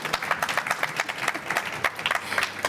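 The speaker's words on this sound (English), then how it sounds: "So a huge applause," Audience applause at an MWC 2024 panel as speakers are introduced, a steady wash of clapping from a crowd with no voices over it.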